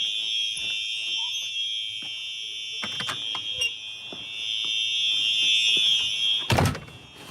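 An indoor fire alarm with a flashing strobe sounds a continuous high electronic tone. It is loud and steady throughout, with a heavy door clunk and rattle near the end.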